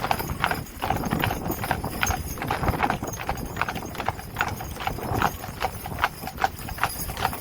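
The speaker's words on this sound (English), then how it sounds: "So all 4 of these draft horses can be ridden, but their main job is to be driving or working like this, giving rides in the park." A four-horse hitch of draft horses pulls a wagon giving rides in a park, their hooves clip-clopping in a steady, overlapping rhythm close by, with wheel rumble underneath throughout.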